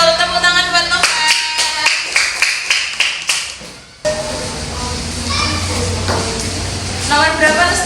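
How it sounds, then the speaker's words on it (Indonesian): Students in a classroom clap for a classmate. A rhythmic run of sharp, close claps, then mixed voices and a hubbub of children's talk with scattered light claps. "Tepuk tangan buat Novel."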